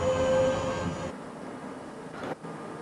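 A D line subway train runs on the underground, its rolling rumble carrying a high squeal at first, then settling into quieter wheel and track noise and a short burst near the end.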